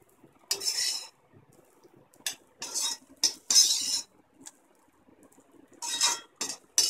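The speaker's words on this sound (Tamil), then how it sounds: "இப்போ ஸ்டவ் ஆஃப் பண்ணிட்டு நம்ம இதை ஒரு பவுலில் மாற்றிக்கலாம்." Cooked okra curry is scraped and spooned from a pan into a bowl, with repeated bright metallic utensil clinks and scrapes in short bursts, close and fairly loud, with quiet gaps between.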